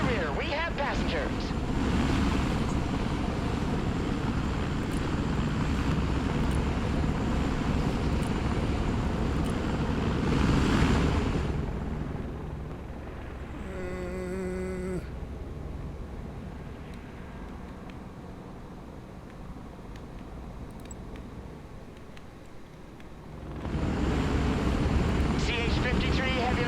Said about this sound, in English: CH-53 heavy lift helicopter here